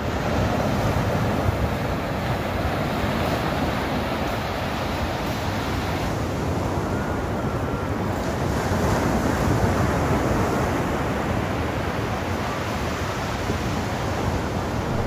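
Sea waves wash over bare feet on a sandy beach at dawn, a steady broad surf wash running close and continuous with light wind noise, no voices.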